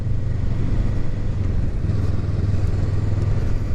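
A 2023 Honda Rebel 500 SE motorcycle engine rumbles up close while shifting out of a short first gear, with a low steady drone and a small dip in revs partway through.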